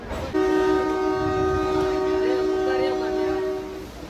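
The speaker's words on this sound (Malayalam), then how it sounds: "3 മിനിറ്റിൻ്റെ ഹോൾട്ടിന് ശേഷം നമ്മളിത് പാലക്കാട് ജംഗ്ഷനിൽ നിന്ന് എടുക്കുകയാണ് കേട്ടോ" MEMU train departing Palakkad Junction sounds one long, loud, steady horn blast that holds for about three and a half seconds over faint platform background noise.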